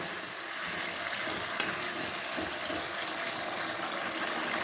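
Eggs frying in oil for a potato and egg curry, a steady close sizzle with one sharp crackle near the start and no talk.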